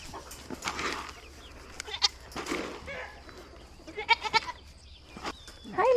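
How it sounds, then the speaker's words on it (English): A small farm goat bleats several times in short, close calls spread across a few seconds, mixed with light outdoor background noise. "Hi, little goat."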